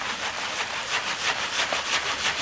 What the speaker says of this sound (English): So that is the sound of a sieve we use